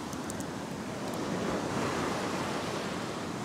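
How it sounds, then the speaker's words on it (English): Ocean surf rolls and breaks steadily on a beach with deep water close to shore, a loud, continuous wash of waves with some wind and no talking. "here comes a wave"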